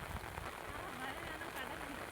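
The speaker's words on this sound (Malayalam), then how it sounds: "ഇപ്പം എത്തിയപ്പോൾ ഭയങ്കര മഴ" Steady rain patters on a surface at a low, even level at a fishing harbour in Vizhinjam, Kerala, with faint muffled voices underneath.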